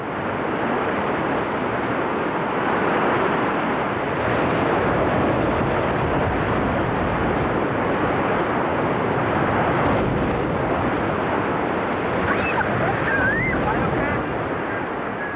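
Whitewater river rapids during a rafting trip in Ethiopia, heard as a loud, continuous roar of churning water and surf mixed with wind buffeting the microphone, with faint voices underneath.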